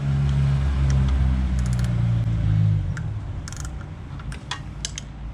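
Ratchet tightening a bolt on a Peugeot 206 petrol car during thermostat and front brake work, a few close quick clicks and metallic ticks over a low humming background, ending in scattered light clatter.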